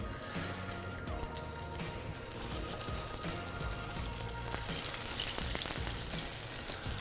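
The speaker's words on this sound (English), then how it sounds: "I'm gonna lay the patty in, I'm gonna let it fall away from me" A grain patty laid into hot oil fries with a steady, close crackling sizzle that swells louder and brighter toward the end, with no voices.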